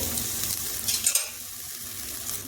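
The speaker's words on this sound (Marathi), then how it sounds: "फ्रोझन मटार आहे, थोडेसे चांगले परतून घ्यायचे." Frozen peas sauté in a hot pan for samosa filling, giving a steady close sizzle with soft stirring scrapes partway through.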